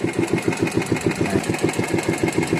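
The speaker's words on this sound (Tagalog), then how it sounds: "So at patayin na natin yung ating makina." A fishing boat's engine runs steadily at idle on a crab-fishing outing, a loud, close, rapid regular chugging throb with no talk over it.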